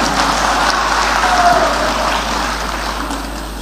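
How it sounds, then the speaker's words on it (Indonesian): Steady, dense applause from a large crowd at a rally for Gibran, a loud continuous wash of clapping with no pauses throughout. "Tepuk tangan untuk Gibran."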